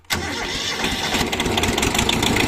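A Kubota diesel tractor engine with glow plug trouble fires up abruptly without throttle and settles into a loud, rough, steady chugging close by.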